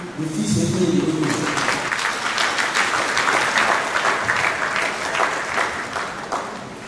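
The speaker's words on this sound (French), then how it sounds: "vous méritez les applaudissements des fils et filles de Dieu" Sustained applause from a congregation at a church ceremony honouring a retired bishop, a dense steady roar of clapping that starts strong and continues throughout, close and full.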